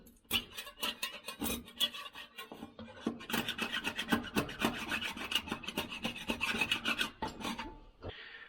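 A spatula scrapes antifouling bottom paint off a boat hull, making close, gritty rasping strokes in a quick uneven rhythm that continues steadily before stopping.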